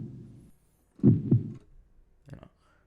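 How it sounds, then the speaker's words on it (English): Heartbeat sound effect from the Bismark bs-16i sound app, heard as two close, heavy low thumps in one beat, then a fainter, shorter thump after a pause. The beats are muffled and booming and stand alone. "Heartbeat."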